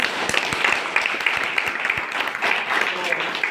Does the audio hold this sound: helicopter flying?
no